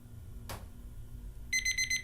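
An electronic timer beeps in a quick run of four short, even pulses near the end of a stretch hold, after a brief soft rustle, over a low steady hum.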